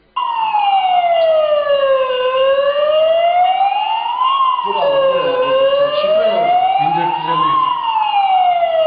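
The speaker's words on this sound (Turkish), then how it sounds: "Okulda bulunan alarmın çaldığını ve lambaların yandığını gören çevredeki vatandaşlar polise haber verdi." A burglar alarm at a school wails loudly and continuously, its pitch sweeping slowly up and down in long repeating cycles. A lower rumble joins it partway through.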